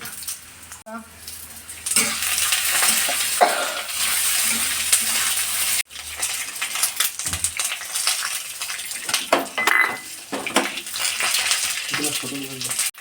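Hot oil sizzles and crackles in a pan while onion, ginger and garlic are stirred for chutney, with scraping and clattering over a steady hiss; a voice speaks briefly.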